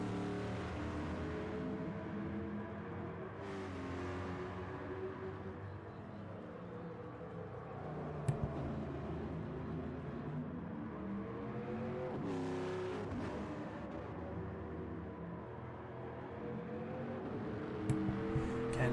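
A Chevrolet Camaro touring car engine in a sim racing game drones steadily, with pitch rising and falling through shifts and acceleration, a continuous loud engine tone with a few brief sharp spikes.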